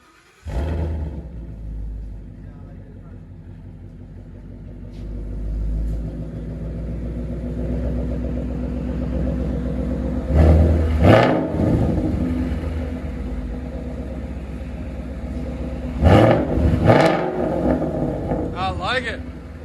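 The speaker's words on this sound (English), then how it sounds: "So it's got an X-pipe, no resonator, and ROUSH mufflers out the back." A loud Ford Mustang GT 5.0L Coyote V8 with an X-pipe, no resonator and ROUSH mufflers rumbles at idle, then revs sharply twice with deep roaring bursts, with some talking mixed in.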